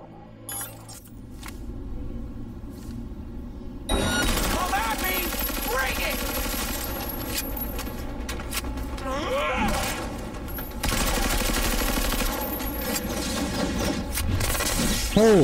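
Rapid bursts of gunfire from a fire-damage gun in Cyberpunk 2077, loud and sustained in long volleys with clinking and jangling layered through the busy combat mix, while a voice talks over it.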